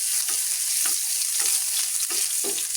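Crushed ginger and garlic frying in hot coconut oil with a bright, continuous close hiss, broken by regular soft scraping stirs about every half second.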